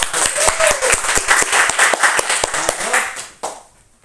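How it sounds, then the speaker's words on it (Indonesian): A crowd claps together, a dense burst of applause with sharp hand claps that holds steady for about three seconds, then abruptly fades out. "Oke, tepuk tangan dulu."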